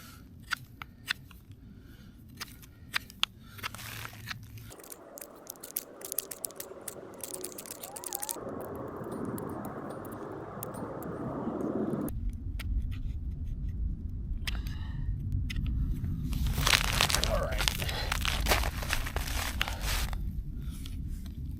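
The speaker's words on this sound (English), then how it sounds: "I do have to make sure that I cut my wood down so that it actually fits in this socket." A knife whittling and shaving down a piece of wood to fit a bow drill bearing block socket, close irregular scraping and clicking cuts in bursts, with quieter handling gaps between them.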